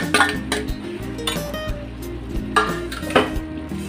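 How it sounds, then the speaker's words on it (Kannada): Chopped ivy gourd goes into a pan of sprouted green gram, and a spoon clinks and scrapes against the metal pan in irregular knocks over a faint low sizzle. "ಹೆಚ್ಕೊಂಡಿರೋ ತೊಂಡೆಕಾಯಿಯನ್ನು ಈ ಹೆಸರುಕಾಳು ಜೊತೆಗೆ ಹಾಕೋಣ."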